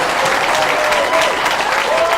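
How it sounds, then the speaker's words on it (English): Game show studio audience gives a big round of applause, a loud, steady, dense wash of clapping throughout. "How about a big welcome and a big round of applause, everybody, for Shanon here."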